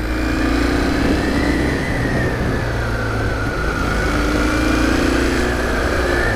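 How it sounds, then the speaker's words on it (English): A Kawasaki W800 motorcycle engine hums steadily and loud throughout, with a low droning rumble and a gentle rise and fall in pitch as it rides along. "We can get some vibes going on this engine."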